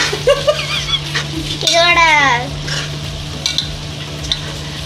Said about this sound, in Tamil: இப்ப நீ வதக்கிக்கலாம்.